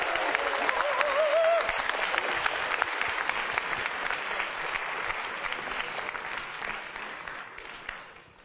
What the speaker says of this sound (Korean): 많은 팬들께서 예, 이 박수로 예, 화답해 주시니